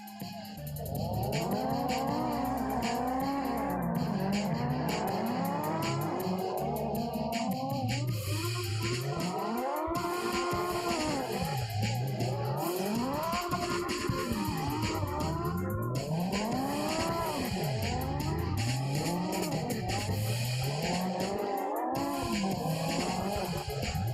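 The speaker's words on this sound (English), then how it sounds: "Oh, you guys are drifting together right now." Cars drifting together in CarX Drift Online, engines revving high and wailing up and down while tires squeal and skid continuously, loud and close throughout.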